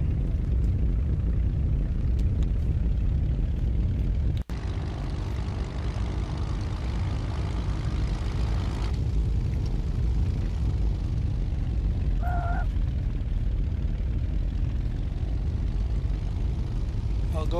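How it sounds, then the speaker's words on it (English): A passenger airplane landing and rolling down the runway at Bhavnagar Airport in India, a steady loud engine and wheel rumble throughout, with a sharp thump partway through and a brief tone later. "that is our landing at Bhavnagar Airport in Bhavnagar, India"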